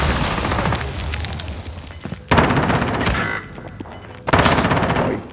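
Gunfire aimed at the player in Call of Duty: Warzone comes in loud bursts of rapid shots with sharp booming impacts, separated by brief lulls.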